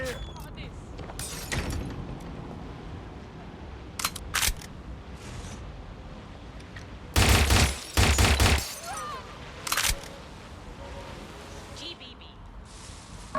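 Gunfire in Watch Dogs Legion, a few loud sharp bursts of shots with a short rapid volley in the middle, over steady background game noise and talk.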